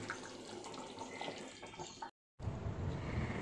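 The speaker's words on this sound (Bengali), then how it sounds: "এবার জল দেবো চিকেনে।" Water splashes and gushes into a pan of chicken curry being cooked, a short rushing pour that cuts out briefly, then returns with sizzling bubbling.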